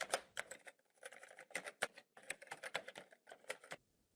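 Fast keystrokes on a computer keyboard, entering a name into a banking form: irregular bursts of crisp, close clicks with short pauses, no talking.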